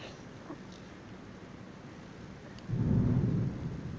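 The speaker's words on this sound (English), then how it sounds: "there's a thunderstorm happening" Thunder from a storm outside rumbles faintly and distant, swelling into a low roll for about a second before fading, behind a quiet, steady background.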